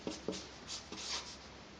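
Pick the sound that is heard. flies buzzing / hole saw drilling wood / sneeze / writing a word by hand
writing a word by hand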